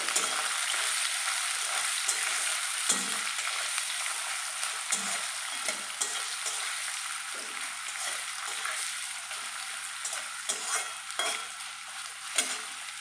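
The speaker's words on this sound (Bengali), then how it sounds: "রসুন আর পেঁয়াজটা ভাজা হয়ে গেছে, দিয়ে দেবো কেটে রাখা গাজরগুলো" Carrots stir-fry with garlic and onion in a pan for veg chowmein, a continuous close sizzle punctuated by occasional scrapes and clinks of a spatula stirring, with no voices.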